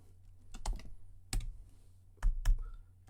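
Computer keyboard keys are pressed in a few short, sparse clusters of clicks while code is typed in Roblox Studio, close and fairly quiet over a low steady hum; no talking.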